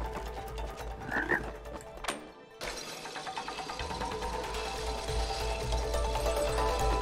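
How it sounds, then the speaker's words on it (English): A frog croaking in the video game It Takes Two, part of an animal-sound puzzle: a few early croaks, a sharp crash-like break, then a continuous rhythmic croaking over a mechanical game background. "Froggy."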